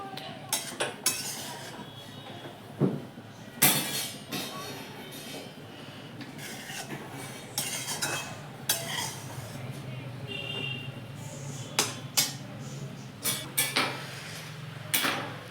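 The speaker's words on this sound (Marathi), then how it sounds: "असं हलवत राहायचंय गाजर" A utensil scrapes and clinks against a pan while grated carrots are stirred in ghee for carrot halwa, with irregular sharp metallic knocks and rattles over a quiet kitchen background and faint voices.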